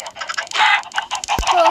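A crowd of chickens gathered together clucks loudly and close, with overlapping choppy calls and squawks and no pauses.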